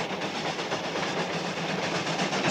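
The Cannonball train runs along its rails with a steady, dense rumble and rattle, continuous and moderately loud, with no voices over it.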